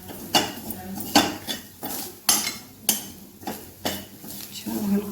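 Grated coconut and dry fruits being dry roasted in a pan, regular metallic scrapes and clinks of a spatula against the pan roughly every second, close and fairly loud.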